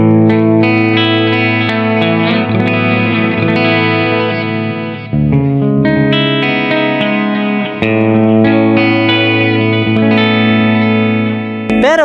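An electric guitar runs through the reverb and delay effects of an M-vave MK-300 multi-effects unit. Loud sustained chords and notes ring with long washy tails and echoes, with brief dips between phrases and no voice over it.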